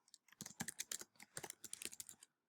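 Quick, uneven clatter of keys on a computer keyboard, close and quiet, a burst of rapid taps lasting about two seconds with no voices.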